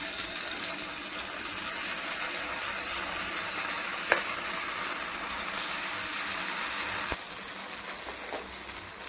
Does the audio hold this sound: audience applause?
no